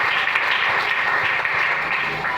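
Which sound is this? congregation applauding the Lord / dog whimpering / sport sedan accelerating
congregation applauding the Lord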